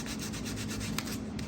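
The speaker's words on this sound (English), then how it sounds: "sanding on this thing, it's crazy." Sanding a bent wood custom floating guitar stand by hand, with steady, continuous rubbing strokes at close range, fairly loud and even, with no talking.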